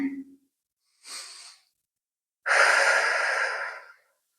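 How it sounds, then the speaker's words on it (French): Slow, deep breaths during a guided yoga session at home, a short inhale followed by a long, full exhale, close and clear with silence between them. "Quelques respirations ici, vous laissez le souffle s'installer, cette belle respiration guidée maintenant la pratique."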